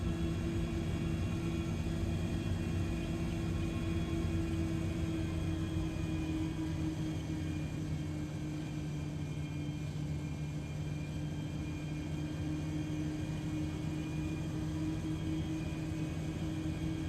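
Airliner taxiing toward the runway in a flight simulator game, a steady low engine rumble and whine holding evenly throughout, with no talk over it.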